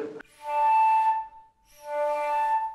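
A flute harmonic played without enough breath support gives two held, somewhat thin tones with a brief break between them, heard up close.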